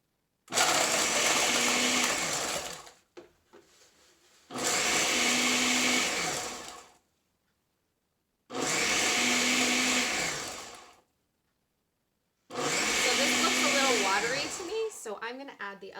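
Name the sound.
blender blending fruit smoothie with ice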